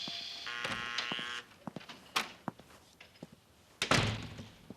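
A prison cell door opens with a buzz followed by a series of heavy metallic clunks and thuds, close and loud, with no one talking.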